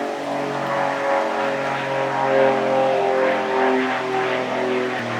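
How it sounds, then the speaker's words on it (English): A propeller plane passes overhead above a Palm Springs backyard, a steady droning hum that swells slightly and stays loud throughout with no talk. "Plane going over."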